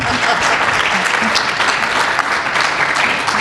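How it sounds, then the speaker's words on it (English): An audience at a public forum on regional arts and development breaks into loud, sustained applause, a thick steady wash of many hands clapping. "Yeah, that's an applause line."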